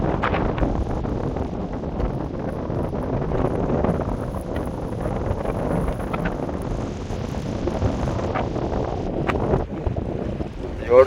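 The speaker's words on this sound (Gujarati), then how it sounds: "ફૂલ પવનમાં આપણે વિડીયો શૂટ નથી કરી શકતા" Strong wind buffeting a fishing boat at sea, a loud, dense roar of gusts and wind rumble on the microphone that runs throughout, with waves mixed in.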